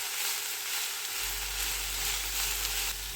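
Crushed ingredients stirred into Kerala-style beans thoran frying in a pan, a steady close sizzle with soft stirring, strengthening slightly partway through.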